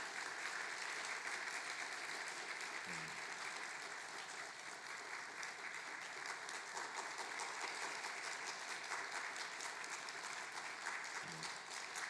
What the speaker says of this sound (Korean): 우리 박수로 우리 격려해 주시고 인사해 주셨으면 좋겠습니다.